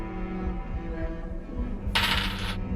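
Dice are rolled during a tabletop role-playing game session, giving one brief, bright clattering rattle over a steady low background hum.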